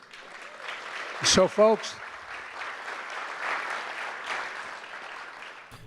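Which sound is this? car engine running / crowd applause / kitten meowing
crowd applause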